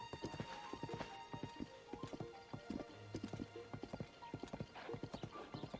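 Hooves of a donkey in the video game Zelda: Tears of the Kingdom clip-clop in a brisk, steady rhythm, close and prominent, with a brief animal whinny partway through.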